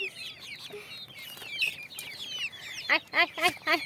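Farm chickens clucking close by, with a run of short, sharp clucks and squawks growing louder toward the end over a low background hum.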